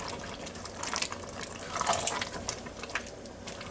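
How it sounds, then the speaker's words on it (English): Hungarian goulash with noodles bubbles away in a Ninja Foodi, giving a quiet, steady wet simmer with soft pops and gurgles throughout. "let it keep on bubbling away like this"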